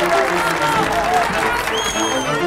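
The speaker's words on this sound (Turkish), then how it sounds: "Alkış, alkış." A crowd claps and cheers continuously, a dense wash of applause mixed with voices throughout.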